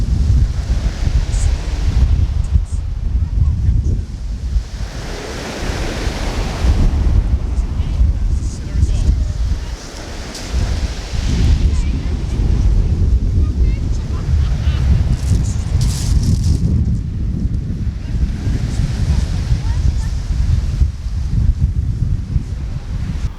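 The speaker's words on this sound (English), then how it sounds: "as you can hear the sea" Sea waves washing onto a sandy beach at Eastbourne near sunset, a steady broad roar of surf mixed with gusting wind buffeting the microphone, continuous and fairly loud throughout, with occasional faint voices.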